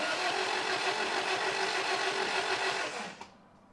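A Toyota pickup engine cranks over with the radiator cap off while combustion gas escapes into the cooling system. It gives a steady, loud churning for about three seconds, then cuts off abruptly into near quiet, with no voices.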